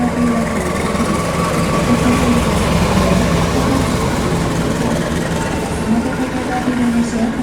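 A Ranggajati passenger train of new-generation stainless steel carriages, hauled by a diesel locomotive, pulls away with a steady, heavy low rumble and engine drone, continuous and fairly close, under indistinct voices.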